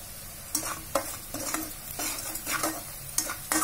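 Onions with masala, salt and green chilli fry in a pan for a stuffed karela dish. A spoon scrapes through them in quick, uneven strokes over a soft, continuous sizzle, close up and without talk.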